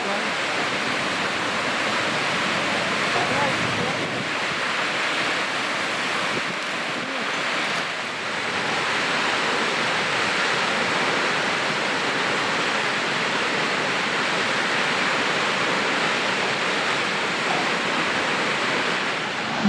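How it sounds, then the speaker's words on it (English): A constant broad roar of a 90-metre waterfall on the south coast of New South Wales, steady and full, with no voices and only slight dips in intensity. "The 90 metre waterfall."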